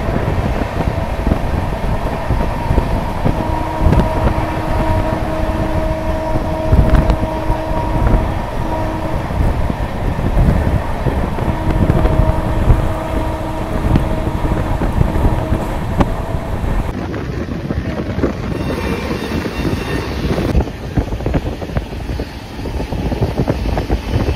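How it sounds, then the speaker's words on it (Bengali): The Darjeeling Mail, a moving passenger train from Kolkata, rumbles loudly and steadily from inside a general class coach, with clattering wheels, wind noise and a drawn-out horn heard twice in the distance. "আর আমাদের ট্রেন তার নির্দিষ্ট স্পিডে ছুটছে"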